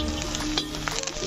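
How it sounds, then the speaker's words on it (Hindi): Green chillies, whole garlic cloves and curry leaves sizzle in hot oil, a busy close crackle with a few light clinks near the end. "अब इसमें ऐड करेंगे ग्रीन चिल्ली, साबुत लहसुन और करी पत्ता। अब इसको हम अच्छे से भुनेंगे।"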